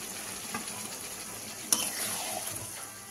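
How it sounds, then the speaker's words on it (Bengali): Broth splashes into a hot pan of frying fish curry made with ridge gourd and green chillies, the sizzle flaring abruptly into a steady hiss and bubbling, close and alone. "এবার অল্প করে একটু ঝোল দিয়ে দেবো"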